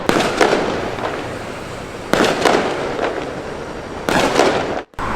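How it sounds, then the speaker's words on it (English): Fireworks go off during Ramadan in Malaysia in three loud crackling bursts about two seconds apart. Each burst trails into sizzling pops before a sudden cutoff near the end. "so as you just heard, as you just saw, those are fireworks."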